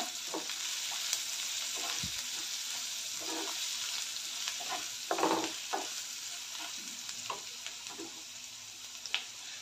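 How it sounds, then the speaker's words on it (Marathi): Turmeric and asafoetida stirred into hot oil in a pan, giving a steady close sizzle and fry hiss with soft spoon scrapes and clinks scattered throughout, no talking. "अर्धा चमचा हळद, अर्धा चमचा हिंग मिक्स करून घेऊया."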